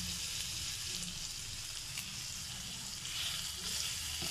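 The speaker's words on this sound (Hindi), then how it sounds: "5 मिनट के लिए हम इसे पकने के लिए छोड़ देंगे ताकि जो हमारा चिकन है वो अच्छे से गल जाए" Chicken tawa boti pieces cooking with spice masala in a pan give off a steady, even sizzle and crackle that continues unbroken from start to finish, with no talking.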